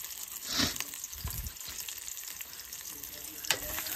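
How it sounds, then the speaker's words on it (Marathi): Onion and garlic frying in hot oil for a black crab curry, a continuous near sizzle with a brief swell of crackling and one sharp scrape of a utensil near the end. "आता पहिला कांदा आणि लसूण टाकून घेऊ. तेल तापलाय बघा."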